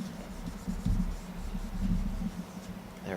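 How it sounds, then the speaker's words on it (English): An eraser rubs back and forth across a drawn transistor circuit sketch in steady scrubbing strokes, close and moderately loud with a low background hum, no talk. "So I'm just going to quickly erase all of these."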